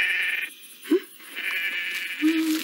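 Sheep on a farm bleat, with short wavering cries over a steady bright background tone and a brief higher call near the end, close and moderately loud.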